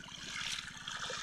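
Water gushes steadily from the pipe of a pump machine filling a stone area, a continuous splashing flow with a low rumbling hum underneath, close and constant throughout.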